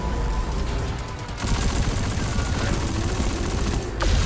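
Rapid, dense gunfire in Destiny 2 rattles continuously at close range while the player shoots at an enemy, swelling louder partway through, with battle effects layered beneath.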